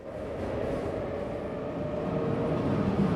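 Trains running in the Cities Skylines 2 city-building game, a continuous low rumbling rail roll that swells slightly louder toward the end, heard alone without talk.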